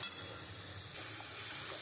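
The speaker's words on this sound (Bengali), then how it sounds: "আমি এবারে মশলাটা দিয়ে খুব সুন্দর করে আমি কষাবো" Ground spices, chili and cumin powder, frying in hot oil for a boal fish head curry give a soft, steady sizzle and hiss, quiet and close, with no voices.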